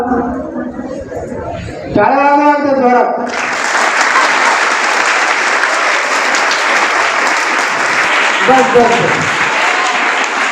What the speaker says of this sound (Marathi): पाच सात आठ विद्यार्थ्यांसाठी टाळ्या वाजवल्या